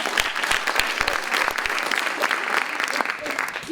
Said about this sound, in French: Je pense qu'on peut t'applaudir.